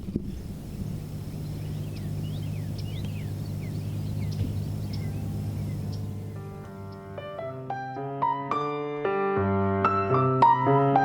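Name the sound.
spring bird sounds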